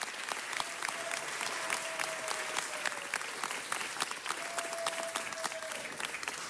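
Audience applause at a city council meeting: steady, dense clapping from a seated crowd that holds at an even level throughout, fairly distant in a large chamber.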